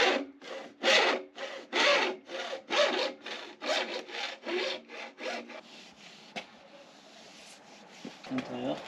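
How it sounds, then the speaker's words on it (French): A hand hacksaw cuts through metal during a car-to-van conversion, its steady back-and-forth strokes rasping rhythmically and close up before slowing and fading into quieter scraping near the end. "c'est parti, on va découper la scie à métaux"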